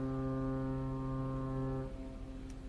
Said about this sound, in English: They soon began to hear a foghorn.